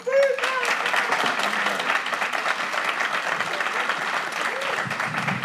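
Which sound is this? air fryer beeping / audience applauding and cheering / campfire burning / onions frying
audience applauding and cheering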